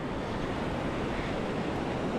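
Steady ocean surf rolling onto the San Diego shore on a calm day, a continuous wash of breaking waves with wind noise and no speech.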